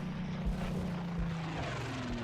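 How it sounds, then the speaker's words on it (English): Warplanes drone overhead in the WWII Normandy game Combat Mission: Battle for Normandy, a steady, loud engine roar with a low rumble holding throughout, no voices. "Bloody planes."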